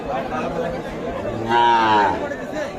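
Calves and cattle at a livestock market: a low, drawn-out moo rises midway through, heard over steady crowd chatter and nearby voices talking.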